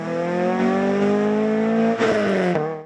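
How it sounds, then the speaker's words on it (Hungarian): Race cars compete at the Harghita hill climb in Transylvania: an engine roars loud and close with steadily rising pitch, then a sharp gearshift break and a brief rasping burst before it pulls away. "Versenyautóktól volt hangos hétvégén a Hargita."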